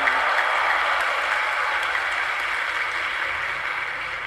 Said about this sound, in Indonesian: Kenapa tepuk tangan ini?